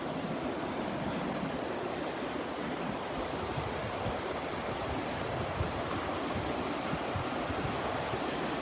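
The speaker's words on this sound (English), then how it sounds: "There's some good sized waves breaking right out in here on the other side of the sandbar." Ocean waves break beyond a sandbar off a beach at Delnor-Wiggins, a steady broad wash of surf mixed with wind noise, constant and fairly distant.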